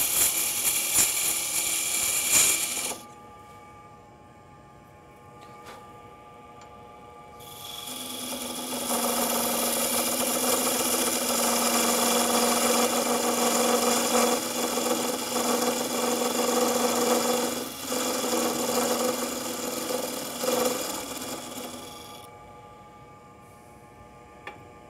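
A wood lathe spins a wooden bottle-shaped bottle opener blank while a parting tool cuts down the top, giving a steady high whine and rasping cut after a short quieter pause, with no talking.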